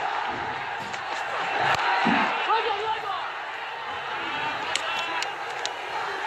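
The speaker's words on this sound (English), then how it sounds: "The crowd have just realized it, cheering him on." A cricket stadium crowd in Bangladesh cheers for Shakib Al Hasan reaching 7,000 ODI runs, a broad, steady roar swelling around the second mark, with a commentator talking over it.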